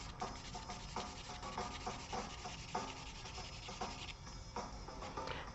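Soft charcoal and stumps rub across drawing paper in repeated close, scratchy strokes with a steady rhythm of short rasping sweeps and no talking.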